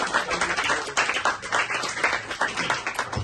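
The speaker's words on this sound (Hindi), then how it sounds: "बहुत बढ़िया, जोरदार तालियां" Loud, dense audience applause fills the whole stretch, a continuous crackling wash of many hands clapping at close range, with a faint murmur of voices underneath.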